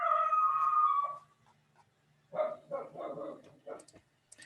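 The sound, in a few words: dog barking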